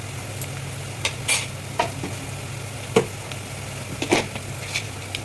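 A spoon stirs turmeric, ginger garlic paste and salt into onions frying in a pan, with a steady close sizzle and a series of sharp scraping clinks at irregular intervals, no voices.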